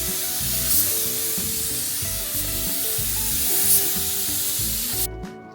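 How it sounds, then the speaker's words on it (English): A mini spray gun applies paint during a full outdoor respray of a Morris Minor 1000 on a driveway, giving a steady close hiss with small rises and dips throughout, then cutting off abruptly near the end. "I'm doing the full respray with mini spray guns"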